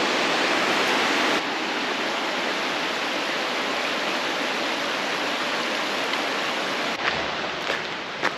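Willis Creek, a mountain stream along Independence Pass in Colorado, rushes in a loud, continuous broadband roar close at hand, with no voices heard.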